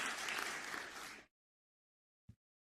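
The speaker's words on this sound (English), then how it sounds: "I think we deserve applause in this House for creating so much opportunities." Applause from a legislative chamber audience, a dense burst of clapping lasting about a second before cutting off abruptly, followed by a brief faint knock.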